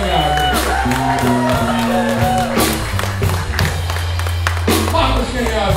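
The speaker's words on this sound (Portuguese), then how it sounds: "Salve de palmas aqui." A crowd claps and cheers loudly, with whoops and shouts over steady applause, music or a low droning tone running underneath throughout.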